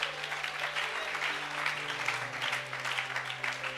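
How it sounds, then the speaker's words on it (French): A church congregation applauds steadily in a dense, continuous burst of clapping, with a sustained low musical tone beneath it. "Est-ce qu'on peut acclamer le Seigneur?"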